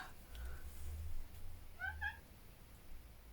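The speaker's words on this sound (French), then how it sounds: "Ah, vous avez entendu mon chat miauler." A house cat gives a brief double meow at moderate distance in a quiet indoor room, with low background hum around it.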